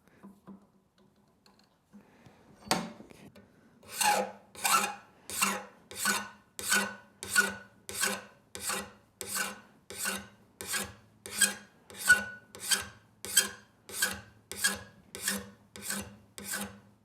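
A file rasps across the back edge of a Toro lawnmower blade to remove a burr, about eighteen steady rhythmic strokes, close and clear, each a bright scraping burst, after a brief soft clatter.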